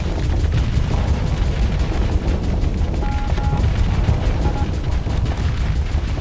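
A constant barrage of missile explosions in the space combat game Starsector forms a loud, churning wall of booms and bursts, with repeated impacts blending together throughout.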